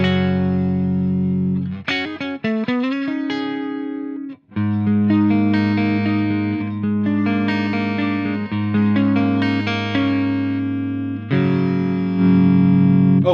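Electric guitar on its neck pickup through a modified Marshall 1959 amp, loud sustained chords and a quick run of single notes ringing out clearly, close and without talk.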